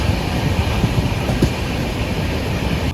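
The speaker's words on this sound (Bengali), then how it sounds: "10টার সময় শান্তিনিকেতন এক্সপ্রেস হাওড়া স্টেশন থেকে ছাড়লো" The Shantiniketan Express out of Howrah station rumbles along at speed, a loud, steady roar of wheels and carriage noise heard from on board, with faint clicks over the constant drone.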